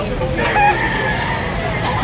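A rooster crows once amid chickens at a busy poultry market in Lipa, Batangas, the crow rising briefly over a constant din of clucking and crowd noise.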